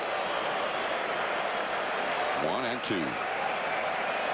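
Baseball crowd at Wrigley Field cheering during a 2003 NLDS playoff game, Braves at Cubs, with the fans on their feet: a dense, steady roar across the whole clip while a commentator speaks briefly over it.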